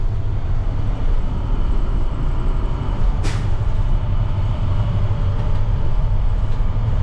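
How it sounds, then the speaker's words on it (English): A short, sharp burst of air releasing from a truck's air brake, close and loud, over a steady low engine idle that rumbles underneath throughout. "I gotta still get used to that air going psh."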